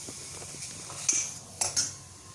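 Fish with carrots stirred in a pan, soft frying crackle under a few sharp metallic clinks of a utensil against the pan, close and brief, with no voices.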